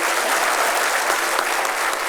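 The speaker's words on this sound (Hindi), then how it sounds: "एक बार तो दादाजी के लिए जोरदार ताली बजा के स्वागत करो" Loud, steady applause from a crowd welcoming an elderly man at a state-level Jat community talent award ceremony, continuous and dense throughout with no talk over it.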